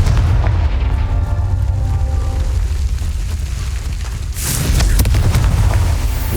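A Confringo spell explosion in the Hogwarts Legacy video game gives a loud, sustained booming rumble with heavy low end, a sharp burst partway through, then continuing roar.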